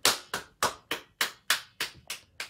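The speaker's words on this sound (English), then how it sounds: "Give yourselves a round of applause like you would get in the theatre." Eight or nine sharp, separate hand claps at an even, unhurried rhythm, close and fairly loud with brief silence between each, like a small group applauding after an opera singing session.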